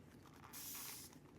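Alcohol sprayed onto freshly poured resin in a DIY turtle craft, one steady hissing spray burst lasting about half a second, close and fairly quiet.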